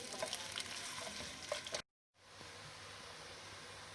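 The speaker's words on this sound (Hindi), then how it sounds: "मीडियम आंच पर प्याज को फ्राई करते हैं।" Sliced onion frying in oil over a medium flame for mutton paya gives a steady, dense sizzle, close and fairly loud, broken by a short silent gap before the frying resumes slightly softer.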